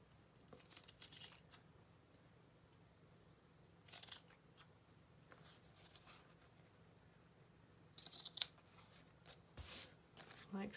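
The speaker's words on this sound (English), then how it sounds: "So I'm using a pair of ribbon scissors." Ribbon scissors snip through ribbon edges while trimming a handmade butterfly greeting card, giving a few soft, close, quiet cutting sounds in short clusters over a faint background hum.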